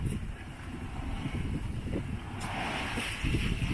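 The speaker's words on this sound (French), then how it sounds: "le vent se lève d'ouest et ça devrait durer au moins 4 heures aussi" Wind rushes steadily past a sailboat under sail off the west coast of Sardinia, a broad continuous roar with gusty buffeting against the microphone and faint water noise beneath, at a low level throughout.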